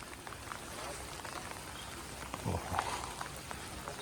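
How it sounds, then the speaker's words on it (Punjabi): Steady rain patters on a hut roof high in the mountains near snow-covered peaks in Livigno, Italy, a dense, even hiss of drops with a slightly louder burst midway and no talking. "ਲੱਗਦਾ ਨਹੀਂ ਇਹ ਹਟੂਗਾ ਮੀਂਹ"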